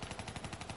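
Rapid gunfire from a pistol in Call of Duty Black Ops 3 prop hunt, a quick burst of several evenly spaced shots, fairly faint and heard alone in under a second.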